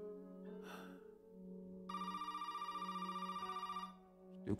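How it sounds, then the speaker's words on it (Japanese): A telephone ringing in Resident Evil 7, a long, steady electronic trill that pulses rapidly for about two seconds over a sustained background drone, preceded by a short rustle and followed by a brief thump. "今、電話がね、すげえかかってきてるんで"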